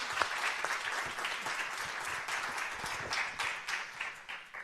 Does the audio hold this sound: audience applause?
yes